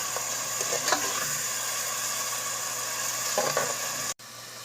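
Sliced onions frying in hot oil for a potato and egg curry, a steady close sizzle with light stirring scrapes, broken by a brief cut near the end.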